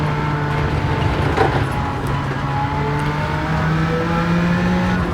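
The engine of a 1992 Jaguar XJ220 in Gran Turismo 7 at Trial Mountain holds a loud sustained drone with slowly rising pitch, steady and close throughout, no talk.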